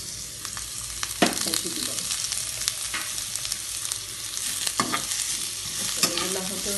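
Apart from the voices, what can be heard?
frying onions in oil in a pan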